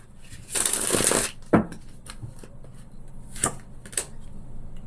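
A tarot deck is riffled in a quick crisp burst, followed by a few lighter taps and flicks as the deck settles, close up and without talk.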